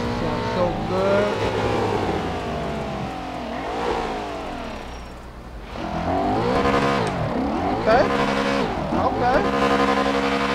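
Six-speed car engine in GTA 5 revving and shifting through gears, a loud continuous in-game roar rising and falling with tire noise, while someone talks over it throughout.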